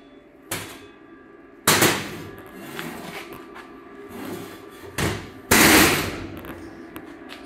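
Tack welds on a steel wheelbarrow frame: four separate bursts of crackling arc noise, close and sharp, with quiet gaps between them and no talking.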